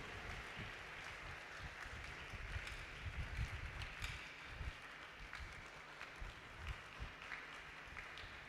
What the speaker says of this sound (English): Shall we give a round of applause to him as he mounts the podium?